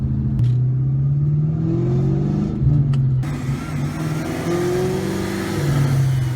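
Supercharged 600 hp 2003 Ford Mustang Cobra engine with ported blower, upper and lower pulleys, intake, exhaust and E85, revving loudly and steadily close by, deep rumbling throughout with rises in pitch.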